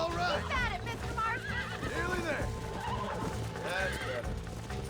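A horse being tamed in the video game Red Dead Redemption neighs and whinnies repeatedly in loud, close bursts over clopping hooves and game sounds, with someone talking throughout.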